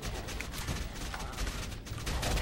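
Gunfire in the video game Action Alien comes as a dense, continuous burst of rapid shots, loud and unbroken for a couple of seconds, with no talking.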